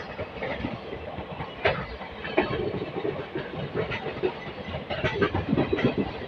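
A passenger express train running on rails, a steady close rumble with clickety-clack wheel beats and rattling carriage noise throughout.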